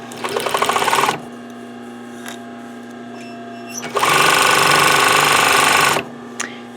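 A sewing machine stitches scrap fabric for a pencil case in two loud, rapid runs, a short one then a longer burst, with a quiet pause and light handling sounds between.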